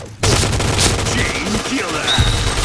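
Rapid automatic gunfire from the Scar L rifle in the game Point Blank rattles continuously and loudly, dense bursts filling the clip with a few faint tonal effects layered over it.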